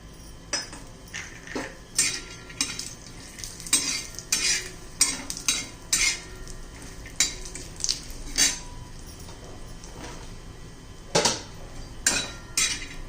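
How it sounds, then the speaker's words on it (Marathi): Grated coconut roasting in a little oil in a pan for a Maharashtrian black bean curry, with repeated sharp scrapes and clinks of a spatula against the pan over a faint sizzle. "आता खोबर भाजून घेऊया आपण थोडस तेल घालूया"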